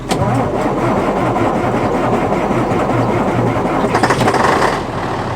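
A farm tractor engine runs steadily at idle, warming up in cold weather, its loud and close mid-pitched throb holding even before a brief rise in revs near the end.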